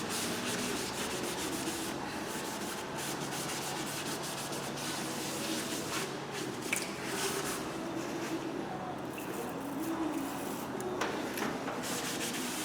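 A cloth wiping sticky grease off a new front brake disc on a Peugeot 208, a steady close rubbing and scrubbing sound that continues without pause and with no talking.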